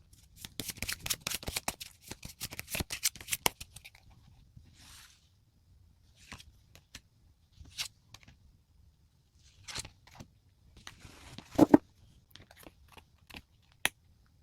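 Tarot cards are shuffled and drawn up close: crisp riffling bursts fill the first few seconds, then scattered soft flicks, slaps and taps as single cards are laid out, with no talking.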